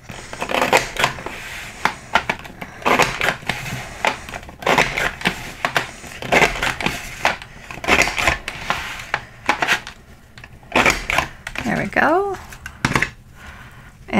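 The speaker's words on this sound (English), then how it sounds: "we just need to do two punches with the double fan" A Creative Memories border maker punches sequins paper with a double fan pattern, giving repeated sharp crunching clacks in irregular bursts, close and loud, with a voice speaking between the punches.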